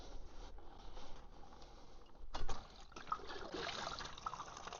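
Old coolant, plain water with no antifreeze, trickles and splashes steadily into a catch container as it drains from a Triumph Speed Triple engine during a valve clearance check, close and continuous with a brief louder gush midway.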